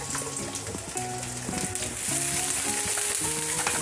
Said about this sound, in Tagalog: Haluin natin hanggang sa mag-translucent yung ating sibuyas.